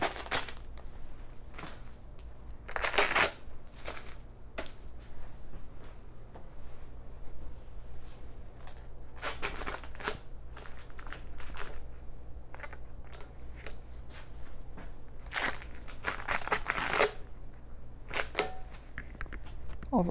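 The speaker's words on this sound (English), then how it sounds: "Carefully take all your tape items off, again being careful not to touch the items underneath." Plastic tape barriers peeled off dental equipment such as an X-ray unit, giving several short crinkly rips and crackles at irregular intervals over steady low room hum.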